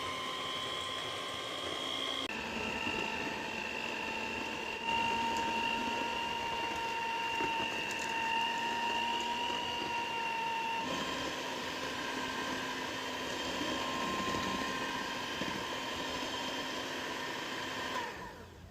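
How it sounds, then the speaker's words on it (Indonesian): An electric mixer beating fudgy brownie batter at low to medium speed, a steady close motor whine with a droning hum that shifts pitch slightly a few times over a long stretch. "Kita mixer selama 5-10 menit ya, dengan kecepatan kecil atau sedang."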